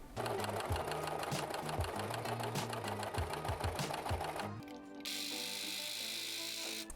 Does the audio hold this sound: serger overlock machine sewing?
yes